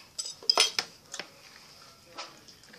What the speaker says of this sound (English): So guys, I'm going to mix it up now.